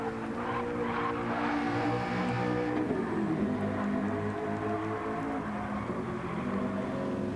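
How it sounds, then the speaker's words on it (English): A race car at Goodwood circuit approaches from the background, its engine drone rising and swelling steadily and loudly, with no talk over it. "And now we hear Drift King's car coming up in the background"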